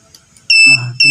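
An Arduino piezo buzzer sounds a shrill electronic tone in two short bursts, loud and close, with a voice talking over it.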